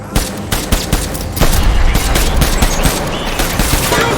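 Loud, sustained automatic fire in the game Death Stranding, with sharp overlapping shots crackling continuously in a chaotic firefight.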